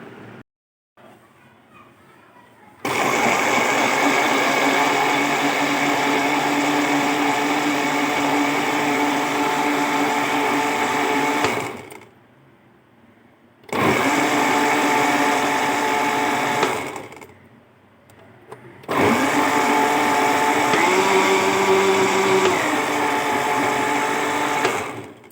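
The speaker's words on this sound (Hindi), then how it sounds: "अब मैं ब्लेंडर चलाती हूँ और हम इसको ब्लेंडर करते हैं" Kitchen blender whirring through mango, milk, cream, sugar and pistachios for a milkshake, running loudly in three long bursts with short quiet pauses between, the motor pitch holding steady.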